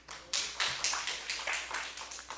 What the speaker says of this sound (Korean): 하나님께 영광의 박수 돌리세요